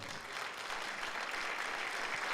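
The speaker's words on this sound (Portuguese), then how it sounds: "Dê um aplauso a Jesus aí." Church congregation applauding together in a steady, dense wash of clapping that holds evenly from start to finish.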